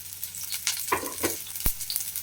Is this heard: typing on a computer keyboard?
no